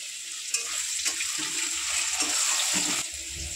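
Tomatoes dropped into chicken frying in a pan, giving a soft steady sizzle with a few faint knocks and stirring sounds, fairly quiet and close.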